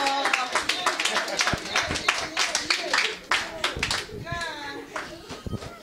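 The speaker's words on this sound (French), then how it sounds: "on peut quand même l'encourager avec des applaudissements" Scattered clapping from birthday party guests, mixed with children's voices and adult talk, with irregular hand claps rising and falling under the chatter.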